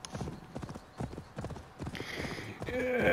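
Horse hooves clip-clop in a steady trot while riding in Assassin's Creed Valhalla, close and distinct, with a game chime and music-like tones rising toward the end.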